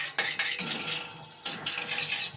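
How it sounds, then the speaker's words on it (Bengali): Metal utensil scraping and clinking against a wok while garlic, black cumin and green chilli are stirred, a few bright scrapes in quick bursts, close and fairly loud with no talking. "রসুন কালো জিরে কাঁচা লঙ্কা কড়াইয়ের মধ্যে ভালো করে নেড়ে নেবো"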